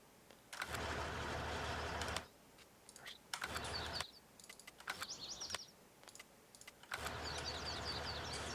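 A Case 8910 tractor starts up in a farming video game, with a low steady engine rumble under broadband noise in two stretches, separated by quieter gaps of scattered clicks and faint bird chirps.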